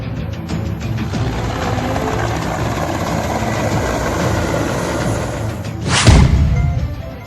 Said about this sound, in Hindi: MI-16 हेलीकॉप्टर कर रहा है टिड्डियों का खात्मा।